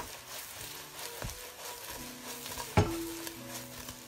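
Eggplant stir-fried in a wok with garlic and chili: a continuous sizzle with scraping stirs and a sharp clank of the spatula against the pan partway through.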